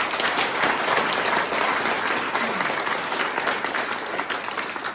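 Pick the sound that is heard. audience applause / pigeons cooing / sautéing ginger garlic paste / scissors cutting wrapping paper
audience applause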